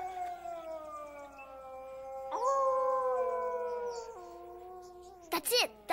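Wild dogs howl in long, wavering, overlapping tones that rise and fall, several voices sustained together, with a few brief sharp sounds near the end.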